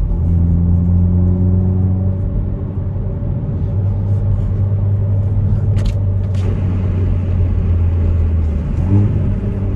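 A Hyundai i30N hot hatch with a 275 hp engine accelerates hard on a country road, a loud steady in-cabin rumble with rising engine tones and a brief gear-change dip near the end.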